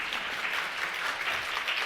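An audience claps throughout a conference session, a dense, even wash of applause with no break.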